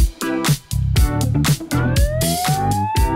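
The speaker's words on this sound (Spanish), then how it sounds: "Apagame la sirena" A rising siren wail sweeps upward over loud rhythmic music, sounding close and prominent in a Spanish-language broadcast.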